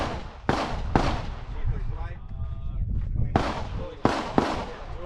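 Pistol shots on an action pistol shooting stage, sharp loud cracks in two close pairs with a lull between, echoing outdoors while people talk in the background.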